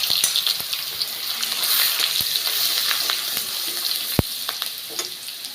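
Garlic sizzles in hot oil left from frying potatoes, with sugar and whole garam masala, in a steady close crackle broken by a few sharp pops and stirring clicks, no voices.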